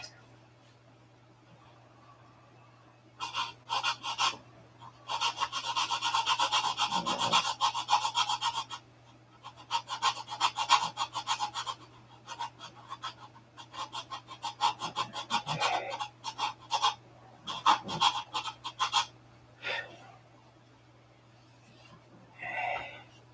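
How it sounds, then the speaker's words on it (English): A carved wooden cowl is being sanded by hand, giving bursts of rasping, scratchy strokes with short pauses between them over a quiet background hum. "Needs to be sanded back this way a little bit too."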